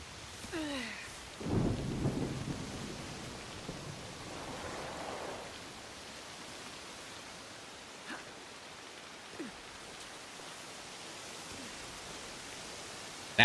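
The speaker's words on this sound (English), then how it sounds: "And we got a storm coming in." Thunderstorm in Assassin's Creed Shadows: a rumbling thunder roll swells early, then steady rain hiss fills the rest with a few faint distant cracks.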